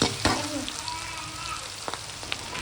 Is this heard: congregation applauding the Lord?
no